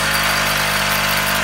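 A 1.5 hp electric motor runs idle at a steady, even hum with a constant drone and no change in pitch, close and fairly loud with no voices.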